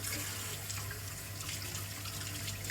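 Tap water runs steadily into a sink while a lid is washed by hand in a home kitchen, a continuous close, even splashing rush with no talk.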